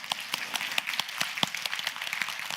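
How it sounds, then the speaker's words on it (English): Scattered claps from a symposium audience on gene editing sound close and distinct, a loose, uneven patter of individual hands over a couple of seconds. "let's have one more round of applause for all of"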